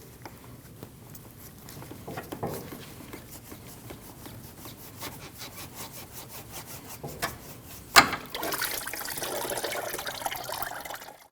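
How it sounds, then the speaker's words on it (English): Engine coolant drains from a removed intercooler hose on a 2013-2019 Ford Escape, starting as soft pattering and trickling, then after a sharp knock turning into a louder, steady rushing stream of liquid. "You can let the rest of the coolant drain out"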